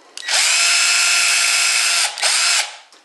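A power drill bores a pilot hole for a bathroom door lock bolt, whining loudly and close for about two seconds, pausing briefly, then spinning up again for a short final burst.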